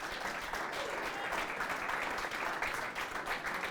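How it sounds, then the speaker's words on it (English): Audience applause at a bowling tournament in a bowling alley in Minot, North Dakota, a steady round of clapping from a crowd, sustained and fairly close for the whole stretch. "If we give him a round of applause"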